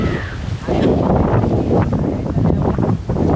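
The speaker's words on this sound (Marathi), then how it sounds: "वारा पण सुटलाय" Strong wind at a hill fort buffets the microphone in a steady roar with gusty surges, loud and close throughout.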